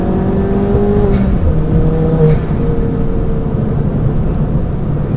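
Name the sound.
310 bhp Ford Fiesta ST accelerating hard in second gear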